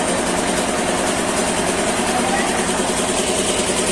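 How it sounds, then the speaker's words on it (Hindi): A generator runs after a power cut at a temple gathering, a steady, loud droning engine hum that continues throughout, with people talking over it. "तो देखिए जनरेटर भी ऑन हो गया है, लाइट अभी कट गया था"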